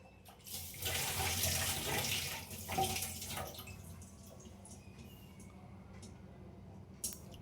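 Mustard seeds being rinsed in a strainer under running water, a steady splashing stream that is loud at first, then softens and continues at a lower level with a small clink near the end.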